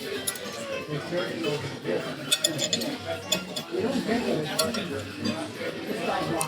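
Spoons and dishes clink at a restaurant dinner table with shellfish on the plate, light scattered taps and chinks running throughout under steady room chatter and nearby talk.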